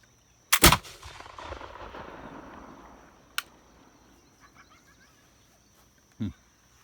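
A single sharp, loud Tecumseh model musket shot outdoors, followed by a long decaying rumble across the landscape, then quiet ambience with insects and a few faint clicks and thumps.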